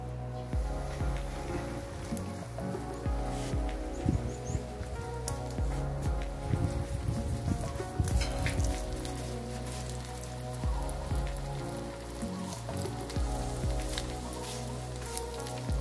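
Milkfish (bangus) frying in hot oil for stuffed rellenong bangus at home, a steady crackling, rain-like sizzle with bursts of spattering, close and continuous across the clip.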